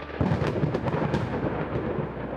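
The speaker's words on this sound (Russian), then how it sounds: "Ты слышишь раскаты грома." Thunder rumbles through a dynamic thunderstorm over Los Angeles in the Outerra Anteworld planet simulator, a steady, loud, broadband roll with a few sharper cracks layered over rain-like hiss, with no talking.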